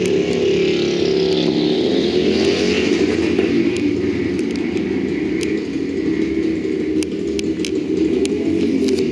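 A motorcycle doing a wheelie at a rally track event makes a continuous engine rumble that holds steady for several seconds, with sharp clicks and ambient crowd noise scattered over it.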